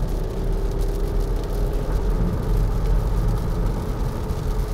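Land Rover Discovery 2017 diesel engine accelerating, a smooth low rumble and whir from inside the cabin, steady and continuous with road noise.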